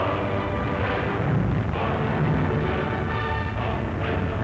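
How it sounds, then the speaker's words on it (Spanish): Bombing in a 1941 WWII newsreel, explosive and incendiary bombs falling on industrial sites in Birmingham: a continuous loud, rumbling roar of blasts and fire, dense and muffled throughout with no clear gaps. "Bombas explosivas e incendiarias."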